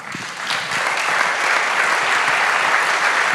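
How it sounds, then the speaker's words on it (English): An audience at a conversation event with Conservative MP Zac Goldsmith breaks into applause, which swells quickly and holds as a full, even round of clapping. "Another round of applause."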